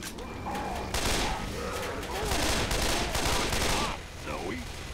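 Left 4 Dead 2 gameplay with a minigun firing in dense, continuous automatic bursts that hold loud for several seconds, under excited voices of players talking over the game sound.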